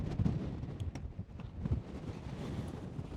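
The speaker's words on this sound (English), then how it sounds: "It is really windy out today." Strong gusting wind buffets the microphone outdoors in the Mojave Desert near railroad tracks, a loud continuous low rumble with rising and falling gusts and no voices.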